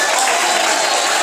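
A church congregation claps hands together as a loud, dense wash of applause filling the whole moment, with voices mixed in.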